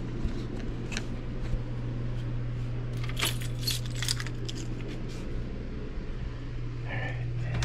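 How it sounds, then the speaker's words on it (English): Keys jangling as they are picked up inside a motorhome, light metallic clinks and rattles scattered over a steady low hum, close and moderately loud. "Where'd I put my keys? No, they're over here."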